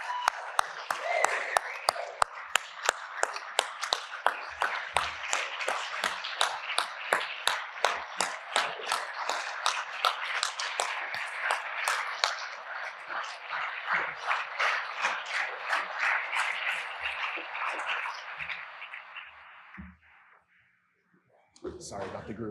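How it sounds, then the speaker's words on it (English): Scattered claps build quickly into steady applause from a dinner audience at an awards banquet honoring Chief Justice Mike McGrath, fairly close and sustained for about twenty seconds before fading out, with a few words of talk near the end. "please join me in applause for Chief Justice Mike McGrath"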